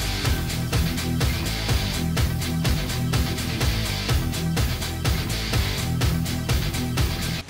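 An excerpt of Rammstein's Du Hast plays loud and dense, heavy distorted guitars and pounding drums driving a steady, chugging rhythm without pause.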